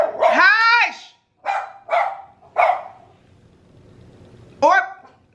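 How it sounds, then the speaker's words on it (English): Several dogs bark loudly and close by in an indoor setting, four or five separate bark bursts with gaps between them, the first long and howling, the last sharp. "Damn, these dogs don't shut up."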